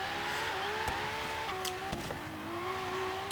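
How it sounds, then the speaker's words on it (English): Twin-turbocharged 6-liter V12 supercar drifting in the Forza Horizon 3 racing game, a continuous engine drone that rises and falls in pitch with gear changes and revs, broken by a few sharp clicks and thumps, loud and without speech. "You guys can listen to the gloriousness that is now the twin turbocharged 6-liter V12."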